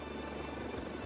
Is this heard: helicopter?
yes